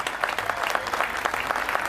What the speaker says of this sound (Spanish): Aplauso a la gente de la organización, a Oscar,